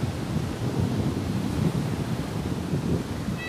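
Large waves roll in at Manalusu beach in South Garut, a broad continuous roar of surf with wind noise, loud and steady, no voices.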